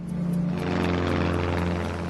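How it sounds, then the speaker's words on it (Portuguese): Steady, loud droning aircraft engine with a strong low hum and propeller throb, continuous throughout as the plane climbs. "Após decolar, o avião precisa ganhar altitude rapidamente."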